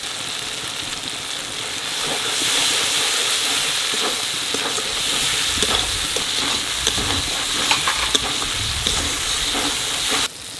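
Masala with turmeric, chilli powder and salt frying in a pan for an egg curry with onion and potato, a steady loud sizzle with stirring scrapes throughout, close and continuous.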